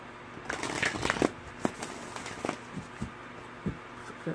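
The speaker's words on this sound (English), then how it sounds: "It's a good shuffle." A deck of oracle cards is shuffled by hand, soft riffling and papery slaps in quick irregular bursts, close and quiet.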